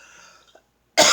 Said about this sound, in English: I know I'm coughing.